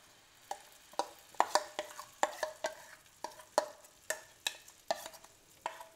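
Vegetable moong batter in a hot pan over a medium flame, a soft background sizzle punctuated by a quick series of sharp clacks and scrapes as the batter is spread and shaped.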